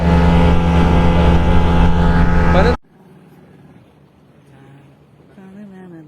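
A loud twin-engine motorboat drones steadily at full speed, then cuts out abruptly, leaving quiet background with faint voices talking.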